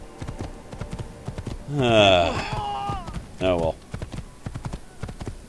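Hooves clip-clop in a rhythmic patter in Assassin's Creed, light and steady throughout, while someone speaks over the middle of the stretch and the hoofbeats continue around his words.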